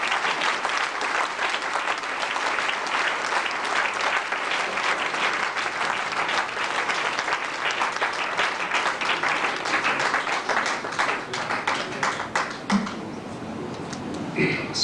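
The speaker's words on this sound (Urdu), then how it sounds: "آپ کی تالیوں کی گونج میں مدعو کر رہا ہوں پروفیسر ناظر حسین صاحب" Sustained, dense applause from a large audience at an Urdu literary evening, welcoming a professor to the stage, steady and loud throughout, with a murmur of voices near the end.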